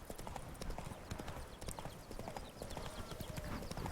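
Hooves of a horse galloping along a path in The Witcher 3, a quick, steady clip-clop rhythm close and clear throughout, with faint game ambience behind it.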